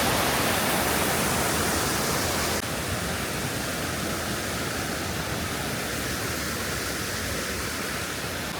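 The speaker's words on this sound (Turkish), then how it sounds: "Burası küçük şelale." A small waterfall at a nature campsite roars in a steady, dense wash of falling water, continuous and close, with no voices.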